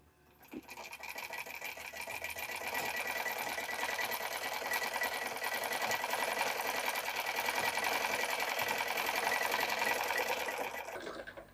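A sewing machine stitching a strip of a blouse at slow, even speed, its rapid needle clatter starting abruptly, running steadily and close for about ten seconds, then stopping, with no talk over it.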